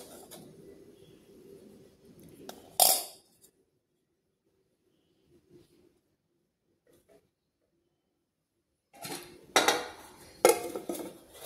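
Hot rice being served onto a plate for a home lunch thali, with sharp clinks and clatters of dishes and a serving spoon coming in short bursts separated by near silence.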